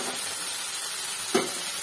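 Mushrooms and vegetables frying in oil in a pan, a dense, steady hiss of sizzling close up, with one brief stir or clack near the end.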